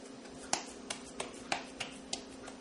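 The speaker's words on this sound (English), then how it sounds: "this is where the Chap part comes in, the clapping of the hands" Wet hands clap potato chop patties into shape, eight or so sharp slaps in a steady rhythm, close and distinct over a quiet kitchen background.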